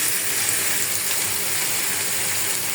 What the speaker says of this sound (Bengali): আমি অল্প করে একটু পানি দিয়ে দেব